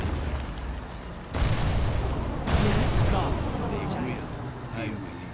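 Heavy artillery from C&C Generals booms in dense, overlapping blasts with two sharp onsets, sustained rumbling barrage, fairly loud, no talk.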